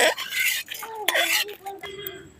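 A spoon scrapes and clinks against a pan as chana dal dry-roasts for a lemon pickle, short metallic strokes repeating close and clear over a light sizzle.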